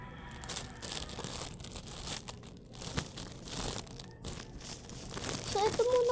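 Paper crinkles and tears at close range while a package is opened by hand, rustling in bursts throughout amid background noise.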